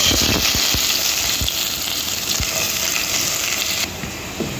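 Onions dropped into hot oil in a pan for mutton salona, bursting into a loud bright sizzle with several thuds as pieces land, then settling into a steady frying hiss that drops in level near the end.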